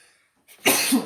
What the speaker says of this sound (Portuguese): Desculpa, pessoal. Espirrei.